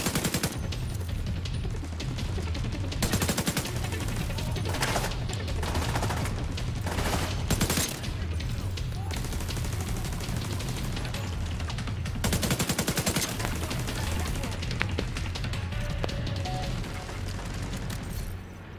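The player's weapon firing in The Division 2, long stretches of rapid automatic gunfire with loud bursts and heavy booming impacts, continuous and close throughout.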